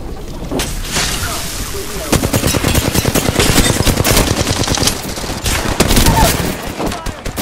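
Rapid automatic gunfire rattles through a firefight in Apex Legends, with dense bursts of machine-gun shots and scattered impacts stacking into a loud, continuous barrage that swells toward the end.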